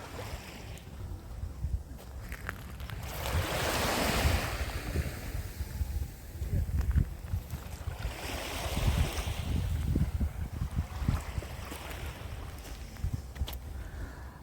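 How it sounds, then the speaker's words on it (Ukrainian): Calm sea waves washing onto the shore at Odesa, Ukraine, in January, soft surges that swell and recede in slow cycles, with gusts of wind buffeting the microphone. "хочеться просто йти, слухати море, дивитися на це все"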